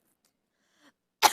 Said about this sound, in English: Let me just have a coughing moment.